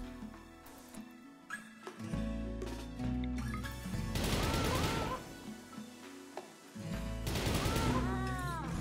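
Gunfire in the video game Rimworld, played with a Warhammer 40k modpack, comes as repeated crackling volleys and impacts over in-game music, fairly faint overall.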